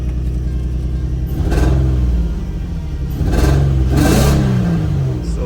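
A budget daily-driver car that had a flashing check engine light is revved in two or three surging bursts, its rough, rumbling engine note rising and falling close by.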